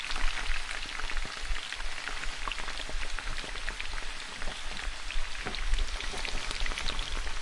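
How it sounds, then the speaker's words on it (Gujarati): Steady, dense sizzling and crackling of vada batter balls deep-frying in hot oil over a medium flame, continuous and fairly close throughout. "અને મીડિયમ ફ્લેમ પર તળીશું"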